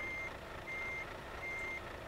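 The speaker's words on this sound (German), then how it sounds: "Das Gepiepe geht mir auf den Sack." Truck reversing alarm in Euro Truck Simulator 2, a steady high-pitched beep repeating in long pulses over a low engine rumble, clear and alone.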